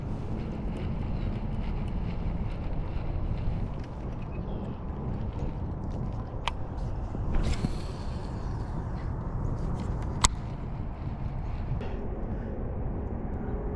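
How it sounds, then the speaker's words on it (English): Steady wind rushing across an open lake around an inflatable fishing boat being rowed, a constant broadband roar with a few faint knocks and creaks, no talking. "Oh, the wind's picking up."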